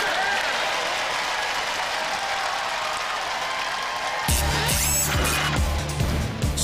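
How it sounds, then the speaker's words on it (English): A studio audience claps for the Roboteers at a Robot Wars Extreme Warriors tag-team event, a steady crowd wash overtaken midway by a loud burst of music and arena noise. "a big round of applause."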